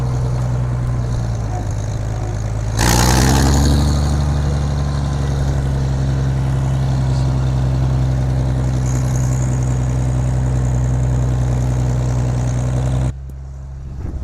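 A Farmall 560 tractor, long abandoned, runs steadily at a low idle, its deep engine drone continuous and close, with a louder burst near the start before settling; the sound stops abruptly near the end.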